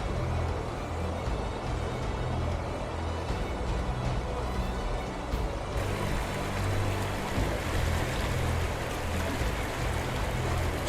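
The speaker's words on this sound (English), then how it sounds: "You gotta love the bush and a fast flowing creek." A fast-flowing creek in the bush gives a dense, steady rush of water that stays loud and even throughout, heard up close with no voices.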